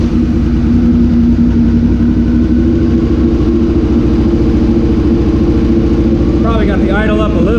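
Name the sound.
motorcycle engine idling, warmed up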